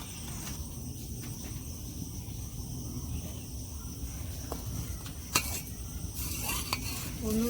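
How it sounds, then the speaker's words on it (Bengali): A spoon stirs milk slowly as it boils in a pan on the stove, with soft scraping and faint simmering, plus a few light metallic clinks near the end. "এইভাবে আস্তে আস্তে দুধটা জাল দিয়ে নেবেন"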